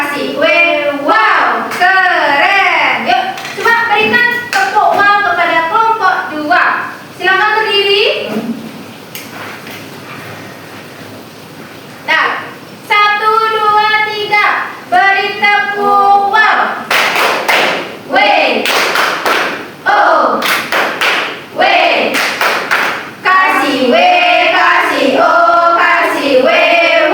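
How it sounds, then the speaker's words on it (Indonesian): A first-grade class gives group 2 the "tepuk wow" clapping chant, with loud rhythmic bursts of claps mixed with children's chanting voices, and a brief lull in the middle. "Yuk, coba berikan tepuk wow kepada kelompok 2."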